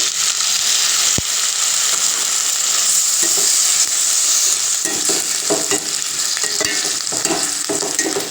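Sliced onions with ginger-garlic paste sauté in a pan for a white kadappa, a steady close sizzle running throughout with occasional stirring scrapes and clicks, no talking.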